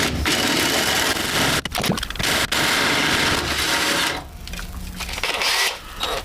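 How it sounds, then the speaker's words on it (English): A loud, continuous grinding drone of a hole saw missing half its teeth cutting metal on a car, with brief pauses and a change in pitch partway through as the cut progresses. "I'm going to try drilling it with the old hole saw and see if it'll do it"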